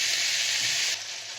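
Vegetables for a spinach soup sizzle in a pan, a bright steady hiss that drops slightly in level just before the end.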